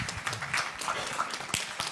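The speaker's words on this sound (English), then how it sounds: "And last but not least, clap for him, please." Audience members at a citizen assembly on debt and anti-corruption clap briefly, a short, moderately close burst of applause with light room noise.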